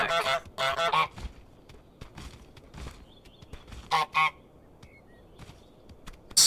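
The goose in Untitled Goose Game gives loud honks in two clusters, separated by a quieter stretch of light game noises and soft chimes.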